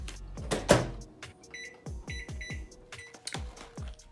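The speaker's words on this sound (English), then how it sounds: "And then I'm going to pop this into the microwave." A kitchen microwave oven is set going while oatmeal with almond milk heats inside, with a sharp clunk of the door followed by a run of short electronic beeps and soft clicks, close by and fairly loud.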